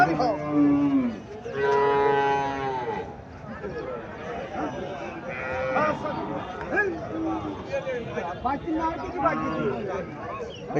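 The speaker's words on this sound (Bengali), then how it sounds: "তো এটা ছোট জাতের গাভী" A small Indian Haryana breed dairy cow lows loudly and close at a cattle market in Cumilla, with two long moos at the start, then crowd chatter and people talking underneath.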